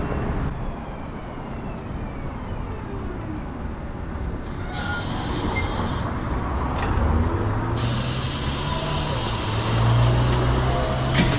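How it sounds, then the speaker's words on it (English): A Proterra electric bus whirs along with steady road rumble while high, thin whines and squeals switch on and off above it. "Geez, Proterra buses make some weird sounds."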